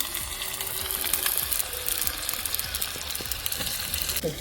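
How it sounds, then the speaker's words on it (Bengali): Finely chopped onions hitting hot oil in a wok over a village wood fire produce a dense, continuous close crackle and sizzle, with scattered clicks of stirring throughout. "কুচি কুচি করে কাটা পেঁয়াজ কড়াইতে ঢেলে দেওয়া হলো"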